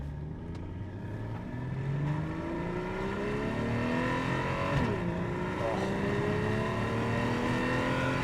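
A Porsche Cayman 981 S with PDK gearbox accelerates hard, its engine note climbing steadily through the gears with a brief dip at a quick shift, loud and close from inside the car.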